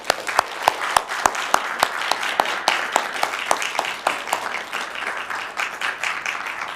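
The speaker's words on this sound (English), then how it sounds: "Round of applause." Applause from a city council meeting audience, a steady patter of many hands with a few sharp, louder claps standing out near the front, fading slightly toward the end.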